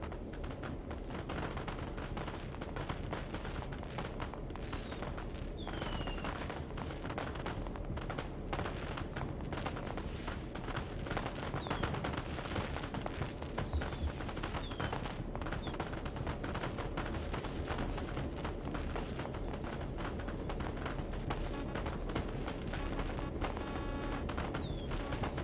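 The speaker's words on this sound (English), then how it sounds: "Fireworks can make noise." Fireworks in the Train Sim World 3 railway game crackle and pop continuously, a dense, busy barrage of small bursts with faint whistles, heard from a distance at low level throughout with no talking.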